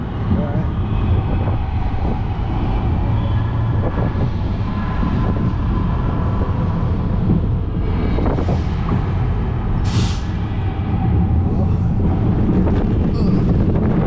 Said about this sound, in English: How the heck is the wind in here? We're not even outside.